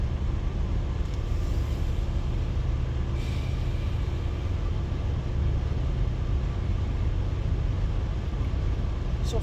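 A steady low rumble of road and engine noise fills the cabin of a car on a long drive home from Florida, constant and unbroken for several seconds with no speech.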